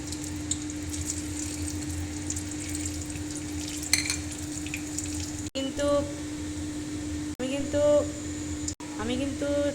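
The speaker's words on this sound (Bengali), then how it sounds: "এবার ফোড়ন দিয়ে দিব আস্তে আস্তে করে।" Whole spices for tempering hit hot oil while a vegetarian paneer curry is cooked in a home kitchen: a steady sizzle rises in fresh bursts as more is added, with a voice talking over the frying.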